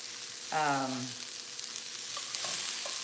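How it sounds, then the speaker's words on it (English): Cauliflower roasting in a pan gives off a steady, close frying sizzle that runs throughout, with a brief voice-like tone near the start and a few light clicks later. "So it's starting to roast really nicely."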